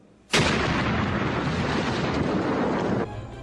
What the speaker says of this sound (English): Every single missile hit the target!